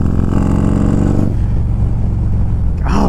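Harley-Davidson Road Glide with a 130 cubic inch engine revving hard, a loud throbbing exhaust roar that drops to a deep rumbling idle.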